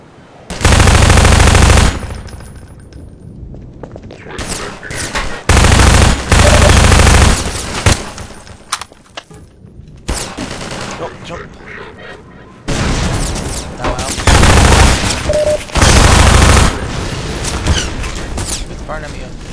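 Bursts of automatic enemy gunfire in Half-Life 2: Lost Coast, loud, long sustained volleys separated by quieter stretches with scattered shots and game noise.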